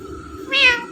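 A parrot imitates a cat's meow in a single short, bright, rising call over a low background hum.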